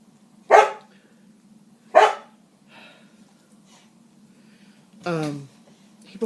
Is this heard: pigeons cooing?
no